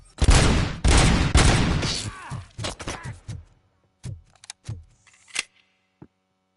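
Bursts of gunfire from RoboCop: Rogue City ring out loud and close, a dense volley in the first seconds followed by scattered single shots that fade toward the end, with no talking.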